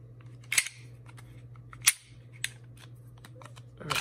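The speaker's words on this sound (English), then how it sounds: "I'm gonna go ahead and take the slide off like so." A Glock pistol slide being removed, sharp metallic clicks and snaps heard three or four times at uneven intervals, close and crisp over a low steady hum.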